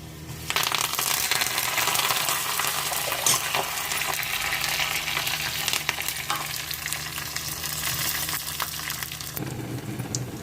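Hot oil sizzles loudly and steadily as cumin, mustard seeds, fenugreek and curry leaves fry as a tempering for sambar, with occasional clinks and stirring scrapes, then the sizzle drops off near the end.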